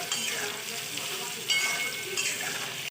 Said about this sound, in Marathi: दोन चमचे तेल टाकून मी सोयाबडी फ्राय करून घेणार आहे